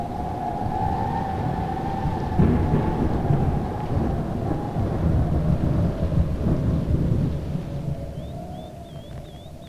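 Heavy thunderstorm with rolling thunder rumbling continuously and loudly alongside rain, with a faint tonal whine running through it.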